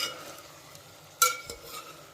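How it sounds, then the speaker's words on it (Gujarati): Fried dhokli being stirred slowly in a pan with oil, giving a soft steady sizzle and scraping with one sharper clink of a spoon against the pan. "ધીમે ધીમે હલાવું જેથી કરીને ઢોકળી ભાંગી ના જાય આપણી."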